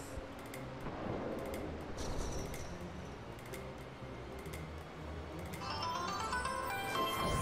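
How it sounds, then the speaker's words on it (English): A mobile phone ringtone sounds alongside Final Fantasy 12 game audio, quiet at first, then its repeated tonal melody grows clearer and louder toward the end. "Why is my phone ring-a-ding-dongin'?"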